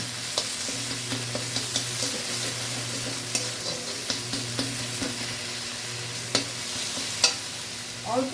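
Ground spices with turmeric fry and get stirred in a pan for a brinjal karanchi, a constant sizzle punctuated by irregular spoon clicks and scrapes over a low steady hum, without speech.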